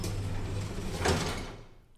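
Elevator doors slide open with a steady mechanical whoosh that peaks midway, then fades into quiet, heard alone with no voices.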